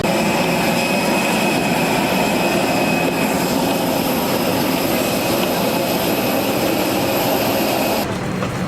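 Jet engines at an airport give a loud, steady roar that fills the whole stretch, a broad continuous rumble with a faint whine above it and no talking.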